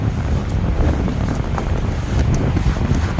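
Strong wind buffets the microphone outdoors on a snowy day beside a lake, producing a continuous low, rough roar with no voices.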